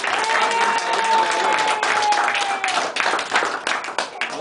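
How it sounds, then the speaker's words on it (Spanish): A crowd at a family event applauds for a child's godfather, loud dense clapping that swells and then thins into scattered claps, with a voice faintly underneath. "otro aplauso para Iñaki"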